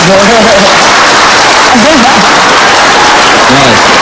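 Studio audience applause on an Indonesian TV talk show, a broad steady wash of clapping running throughout, with voices talking over it now and then.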